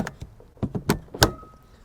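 A CCS charging connector is plugged into a 2022 Hyundai Ioniq 5 at an Electrify America station, giving a few sharp plastic clicks and clunks in quick succession, close up, followed by a faint electronic tone.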